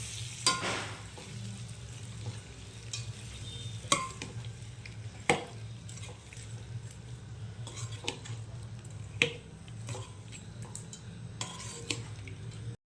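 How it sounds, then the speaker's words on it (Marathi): Prawns fry in Agri masala in a pan with a steady sizzle, and a utensil stirs and scrapes them in repeated sharp clinks and knocks. The cooking sounds close and fairly loud. "आता मी प्रॉन्स टाकते याच्यामध्ये, म्हणजे कोळंबी टाकते. आता आपण एकत्र करून घेऊया."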